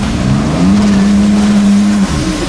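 A VW Amarok pickup with a swapped-in BMW straight-six engine making 285 kW accelerates hard, a loud sustained engine drone rising in pitch and holding before easing off, close and dominant.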